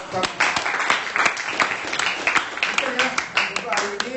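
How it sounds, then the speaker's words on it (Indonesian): An audience of students claps after a class presentation, a brisk burst of scattered hand claps lasting a few seconds, with voices mixed in. "sekali lagi berikan aplaus buat kita"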